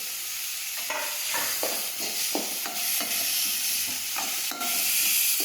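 Chopped tomatoes and grated ginger sauté in a pan under a steady close sizzle and hiss, with a spoon scraping and stirring in a regular rhythm about every half second.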